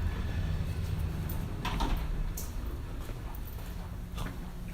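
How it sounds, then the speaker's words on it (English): A door in a public office opens and shuts, a couple of muffled knocks and a soft slide standing out over steady background hum, with no clear talk. "By the way, this is a weird door."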